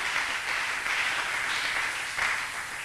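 A church congregation applauding steadily, a dense continuous wash of clapping at moderate distance with slight swells, no voices standing out.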